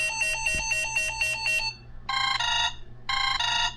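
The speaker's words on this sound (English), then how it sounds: "Here's an example of some of the tones that you could..." A Sunbeam Juniper flip phone plays electronic ringtones: a fast run of bright, repeating beeps, then two longer warbling chirp bursts separated by a short gap. The sound is close and clear over a faint background hum.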